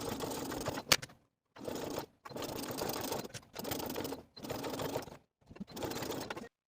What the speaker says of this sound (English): take this section to the sewing machine and sew straight across